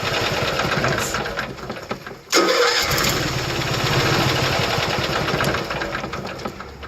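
Onboard generator of a 1990 Fleetwood Pace Arrow 34-foot motorhome turning over and catching at about two seconds, then settling into a steady low hum at 1800 RPM, close and continuous with no voices.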